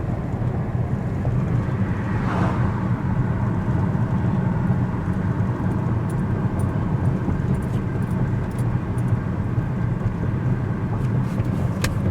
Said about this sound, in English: Sort of little driving clip here. Pretty smooth overall for a pickup truck.